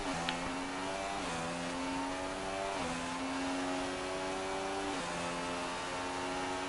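A Formula One car in a racing video game at Spa-Francorchamps, Belgium, its high-pitched engine whining as it accelerates and climbs through several quick upshifts, each marked by a brief dip in pitch, steady and alone.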